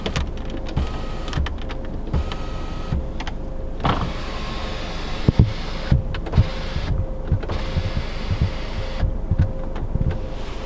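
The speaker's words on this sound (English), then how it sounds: "We have this nice big panoramic roof to allow lots of natural light in the interior. It opens." Power sunshade and panoramic glass roof of a 2018 Alfa Romeo Stelvio Ti retracting, a steady low electric motor whir running through the whole stretch with a few soft clicks and thumps from inside the cabin.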